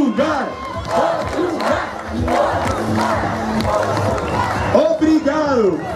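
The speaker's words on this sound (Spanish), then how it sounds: "Por favor, fuerte el aplauso a Portugal" A crowd at a 2015 scout song festival in Pinto cheers and shouts loudly for the Portuguese scouts, voices rising and chanting together, with some clapping mixed into the roar.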